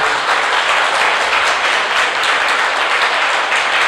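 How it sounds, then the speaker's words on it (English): A roomful of people at an inspirational session claps steadily and loudly, a thick, uninterrupted roar of applause with no talking over it. "So let's clap for them."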